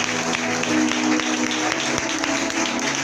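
A church congregation at a conference plenary session applauds, a brief burst of steady clapping, fairly close and full, with a faint murmur of voices underneath.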